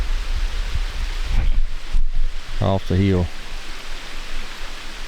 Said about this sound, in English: is you're going to hear, like I said, the water.